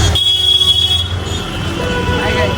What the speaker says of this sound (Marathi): नुसता ट्रॅफिक जमली इथं.